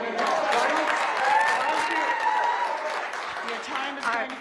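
Clapping rises from the audience at a CCSD school board meeting, a scattered patter of hands under overlapping voices and murmuring crowd noise that swells and dips across the stretch.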